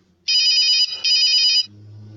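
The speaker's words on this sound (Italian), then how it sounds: "Telefono ringtone. La trovi sul Play Store di Google." A phone ringtone from a Play Store app plays two loud, bright electronic ringing bursts separated by a short gap, alone, then cuts to a low hum.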